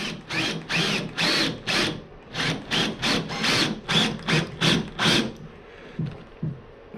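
A power drill drives screws into pre-drilled holes along the gunwale of a cedar strip canoe, about a dozen short, loud whirring bursts in steady rhythm, ending with quieter handling noises.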